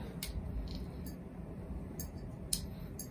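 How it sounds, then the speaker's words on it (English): Small snips and clicks of a tool cutting and stripping a white common wire inside a ceiling fan electrical box, several brief sharp ticks over a low steady background hum, with no voice. "the white common coming out into the box that I'm just going to cut and then strip"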